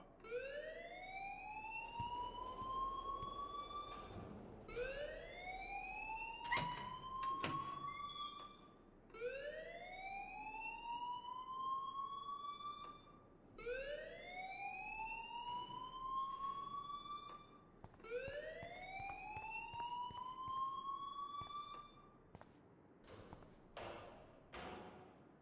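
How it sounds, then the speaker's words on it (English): A school alarm in the Life is Strange video game wails in five rising siren sweeps, loud and repeating steadily, with brief clanks between cycles. "please turn off that alarm since that's your job"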